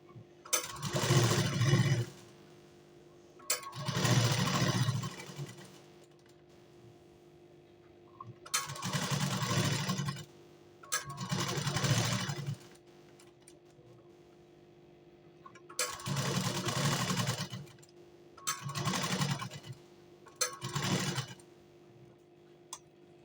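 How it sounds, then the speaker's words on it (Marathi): A sewing machine stitches a blouse in six or seven bursts of steady whirring and needle tapping, each lasting one to two seconds and separated by short quiet pauses. "त्याच्यानुसारच तुम्ही शिलाई मारून घ्या त्याला"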